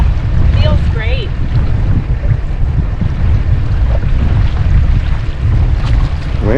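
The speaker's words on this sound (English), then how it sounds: "Wind's really picking up." Strong wind gusts across a lake campsite at Boundary Dam, a steady loud roar buffeting the microphone throughout, with faint bird-like chirps and distant rumble underneath.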